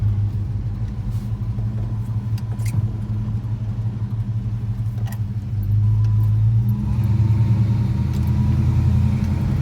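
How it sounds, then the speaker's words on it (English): A 1958 Studebaker Silver Hawk cruising at low speed, its exhaust giving a steady, close, deep rumble that swells louder partway through, with faint interior jingles over it. "Exhaust sounds great on this car."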